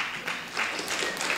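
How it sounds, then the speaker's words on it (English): Applause at the 2018 Amherst Town Council inauguration ceremony, a moderate crowd clapping steadily in an indoor hall for a brief stretch, with no voices over it. "Hold your applause, please"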